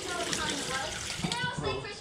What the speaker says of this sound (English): So we'll just flush it, make sure it's all operational.